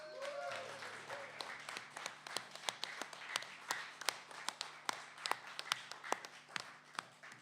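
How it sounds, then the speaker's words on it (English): A small live audience applauds for a performer at a radio station gig, with a steady patter of individual claps that grows into sharper, louder claps and carries on for several seconds. "can we have a round of applause for Ron"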